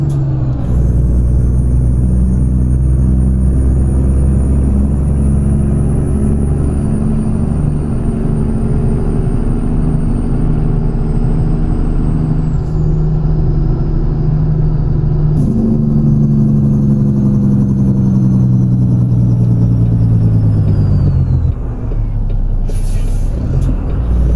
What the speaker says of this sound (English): This is the sound compatibility mod that it adds in a couple of the engines from Creechbomb's pack.